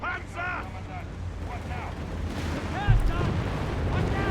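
A Hellcat tank destroyer fires in a Company of Heroes 3 battle. Heavy booming shots and rumbling combat noise run continuously, with game voices calling out over the fighting and one sharper blast near the end.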